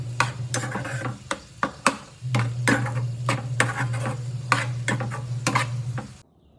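Smashed brinjal is stir-fried in a pan, the spatula clicking sharply against the metal in an irregular rhythm over a soft sizzle and a steady low hum, close by, with no voices.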